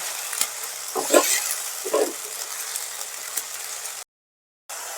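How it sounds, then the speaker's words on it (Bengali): Onion frying in oil gives a soft, steady sizzle, with a few brief louder stirring scrapes and a short silent gap near the end. "ভালো করে পেঁয়াজটা ভাজতে হবে।"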